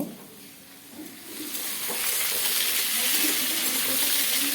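Flat beans and onion are stirred in a hot pan, a rising sizzle with soft scraping that grows louder and steadier after a quieter start, close by.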